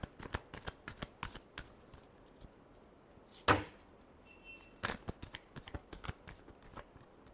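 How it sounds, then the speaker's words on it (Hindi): A tarot deck shuffled by hand, a rapid series of close crisp card flicks and riffles with one sharp slap midway, quiet with no talk. "Last shuffle."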